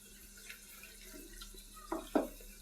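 Tap water running quietly as hands are washed at a sink after mixing meat by hand, a faint steady trickle broken near the end by two short splashing bursts.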